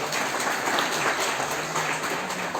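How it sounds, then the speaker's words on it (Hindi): Crowd at a college event applauding, a continuous, moderately loud spread of clapping that stays steady and unbroken. "इसके लिए जोरदार तालियां।"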